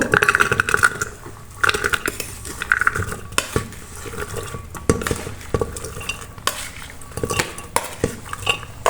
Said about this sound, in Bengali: আমি এটা এর ভিতর ঢেলে দিব।